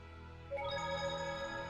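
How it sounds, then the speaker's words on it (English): A mobile phone ringtone chimes as a bright, steady run of repeating electronic tones, starting suddenly partway through and playing on at moderate level over quiet game background audio. "You probably just heard my phone going off."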